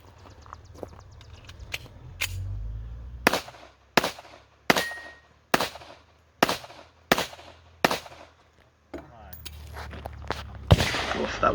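A 1911 pistol firing at a steel Texas Star target at an outdoor match, about ten loud shots in an uneven rhythm with ringing metallic hits, and a voice heard between them.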